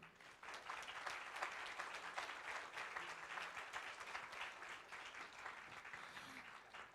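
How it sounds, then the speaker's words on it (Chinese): An audience at a press conference gives sustained applause to welcome a speaker, steady clapping for about six seconds at moderate distance. "也请各位可以给他们一个最热情的掌声"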